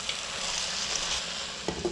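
Vegetables sizzle steadily in a hot pan while being stirred, with a couple of scraping spoon clinks near the end.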